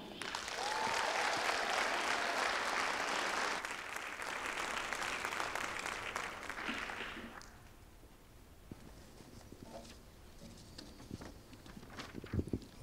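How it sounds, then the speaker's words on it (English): Audience applause for the evening's master of ceremonies at a Black History oratorical competition, a dense, loud clapping crowd for about seven seconds that thins to scattered claps and room noise. "please, a large round of applause to our master of ceremonies for this evening, Mr. Isaiah Jha."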